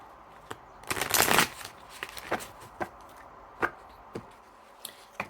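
Life purpose cards shuffle in one brief riffling burst near the start, followed by scattered soft taps and snaps as cards are handled and set down, close and quiet.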